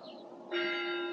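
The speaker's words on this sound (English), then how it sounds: "You see the clock tower there. Is it about to chime? 5 o'clock." A clock tower bell strikes for five o'clock in Torrevieja, Spain, a single loud ringing tone that sustains and decays, heard from a moderate distance outdoors.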